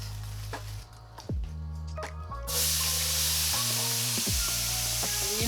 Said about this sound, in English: So what we're going to do is saute our onions